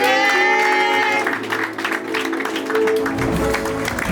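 Applause from a congregation welcoming guests at a church service, loud and sustained, rising over lingering music and carrying on steadily throughout.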